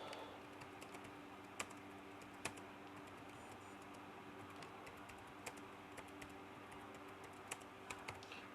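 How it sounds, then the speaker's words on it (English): Steady, quiet typing on a computer keyboard, with soft continuous keystrokes and a few sharper key clicks scattered through. "Alright, just almost done typing this."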